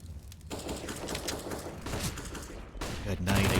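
Rapid M4A4 rifle bursts in a CS:GO match on Inferno, loud crackling volleys with brief gaps between strings of shots.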